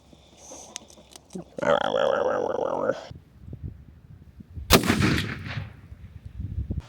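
Guns fired outdoors, with one loud, sharp blast standing out near the end amid scattered thuds, rustling and a brief tonal burst earlier.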